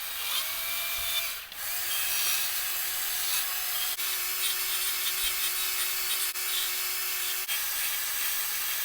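A chainsaw carves a wooden snowman, cutting upward with the chain: a loud, steady, close engine buzz and grinding wood cut that runs unbroken for about nine seconds with only slight dips.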